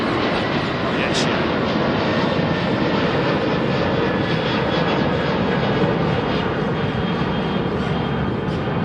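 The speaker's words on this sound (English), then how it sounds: "Look at this beautiful Aer Lingus A330." Aer Lingus Airbus A330 in new livery at London Heathrow, a loud, close, continuous roar of jet engines filling the whole stretch with broad, even intensity, with a little talk mixed in.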